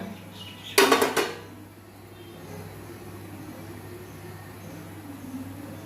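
A metal lid lifted off a pot of cake baking on the stove gives a short clattering burst near the start, followed by a steady low hum and faint background noise.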